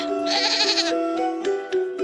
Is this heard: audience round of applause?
no